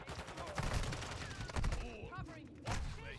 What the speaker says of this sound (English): Trying to get mounted kills with a Lockwood shotgun